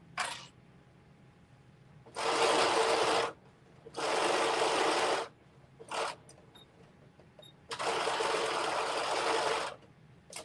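Sewing machine stitching sleeves onto a garment, running in three long loud bursts and a couple of short ones, with quiet pauses between.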